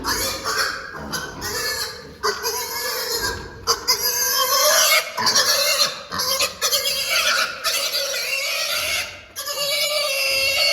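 Young piglets about ten weeks old squealing loudly and almost continuously in a pen, shrill overlapping cries with brief pauses between bursts, close to the listener.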